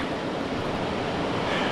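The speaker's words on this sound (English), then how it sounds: "A lot more flow in the waterfall this year." Steady broadband rush of waterfall water running at high flow beside a lake portage on a canoe route, continuous and fairly close with no voices over it.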